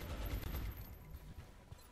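Gunfire from XCOM: Long War, a turn-based strategy game, with a dull low-pitched burst of shots early on and a softer rumbling tail that fades toward the end, with no voices.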